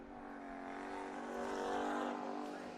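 American stock cars in a heat race at Bakersfield Speedway roar past at a distance, a steady engine drone that swells and fades slightly over a few seconds, with no talk over it.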